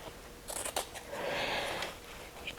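Scissors snipping through a quilting jelly roll fabric strip at its fold line, a couple of quick, close, crisp cuts in a quiet room.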